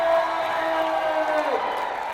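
A high school basketball home crowd in a Kearns gym cheers and whoops after a slam dunk, a loud sustained roar from many voices with a clear tone sliding underneath.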